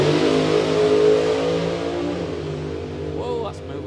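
A drag racing car accelerates down a racetrack at about 211 miles an hour, a loud sustained engine roar with layered harmonics that slowly fades as it moves away, with a voice briefly heard near the end.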